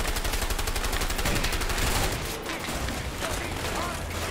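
Dense gunfire and explosions fill a shootout in the video game A Way Out, with rapid continuous rattling shots and heavy blasts that are loud and close, though slightly softer toward the end.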